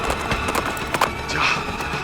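A horse named Shamsher runs, its hooves clip-clopping in a quick, uneven rhythm at close range, with a soft background wash underneath.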